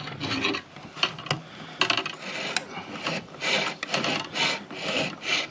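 A hacksaw cuts through a fishing rod blank for a skip casting rod, with steady back-and-forth rasping strokes, close and fairly loud, and irregular gaps between runs of strokes.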